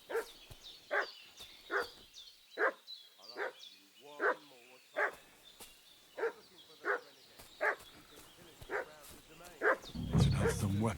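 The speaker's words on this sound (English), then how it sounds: "What's that dog making such a fuss about?" A dog barks over and over in the medieval village world of Kingdom Come: Deliverance II, sharp evenly spaced barks at close range, ending with a burst of louder rumbling noise.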